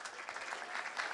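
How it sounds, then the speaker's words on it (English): An audience applauds at an opening session of the YES Conference 2025, a steady wash of clapping that fills the short moment with no voices over it. "Can we give everybody a round of applause for Sam and her vision?"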